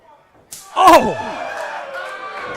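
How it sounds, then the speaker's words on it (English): A pro wrestler takes a strike across the chest, a single sharp slap-thud close up, followed by a lingering crowd-like wash while people talk. "What a thud right across the chest of Royal Money, and you can hear the pain"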